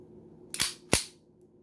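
A Ruger MK I rimfire pistol dry fired indoors: two sharp, close metallic clicks about a third of a second apart, each snapping off quickly into quiet.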